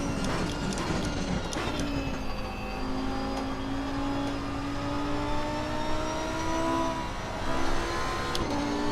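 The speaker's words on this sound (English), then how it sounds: "The sound of this car never gets old." A V10 race car engine in the Assetto Corsa Competizione racing game screams at high revs, climbing steadily through the gears with brief shifts, loud and continuous with no talk.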